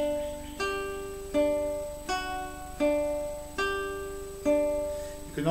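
Plucked guitar notes ring out one after another in a slow, even rhythm, each sustaining and decaying before the next, played alone and fairly clear.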